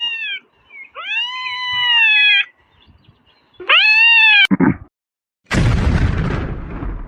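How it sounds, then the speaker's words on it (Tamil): A kitten gives a few drawn-out, high meows with short pauses between them, near and clear. A sharp bang and a burst of rough noise follow. "அது பூனைக்குட்டி"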